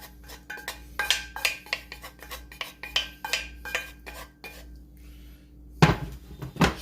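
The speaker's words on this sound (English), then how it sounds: "Stir to combine them" A utensil scrapes and clanks against a hot cast iron pot as vegetables are stirred for a pork neck bone dish, a quick run of rhythmic metallic strokes, a short pause, then a louder clatter, close and without talk.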